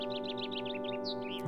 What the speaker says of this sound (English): How sweet the bird's song is.